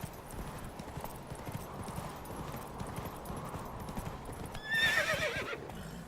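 In The Witcher 3 video game, Geralt's horse Roach trots with steady, close clip-clop hoofbeats over a low ambient bed. A short whinny breaks in near the end.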